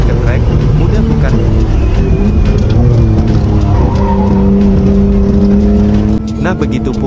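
Mitsubishi Galant VR-4 drifting through corners, with loud, close engine revving and long wavering tire squeals that rise and fall over several seconds.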